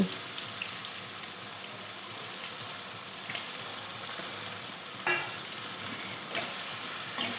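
Bitter gourd and fried fish simmer in a pan with a little water and the fish-frying oil, giving a steady soft sizzle throughout, with a few faint clinks from stirring.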